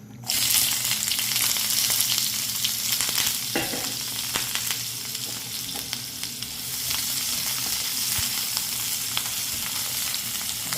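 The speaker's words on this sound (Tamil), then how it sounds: "வெங்காயம் கொஞ்சம் வதங்கும் ஒரு அரைப்பருவத்துக்கு வதங்கினா காணும்" Onions sautéing in a hot pan, a loud, dense sizzle that fills the whole stretch with intermittent scraping and stirring clatter up close, steady frying noise with no voices.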